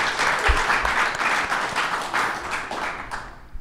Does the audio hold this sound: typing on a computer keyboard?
no